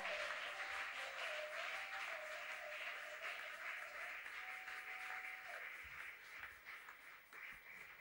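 A church congregation applauds during a worship service, a sustained dense patter of clapping heard from some distance, with a held tone running beneath it for most of the time.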